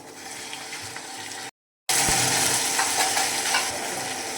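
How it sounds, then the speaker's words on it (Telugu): Eggplant pieces frying in a pan for a village-style eggplant, potato and green chili curry: a steady broad sizzle with stirring scrapes, briefly cut by a short gap of silence before the sizzle resumes louder. "ఇప్పుడు ఇందులోకి వంకాయలు అయితే వేసుకుంటున్నా"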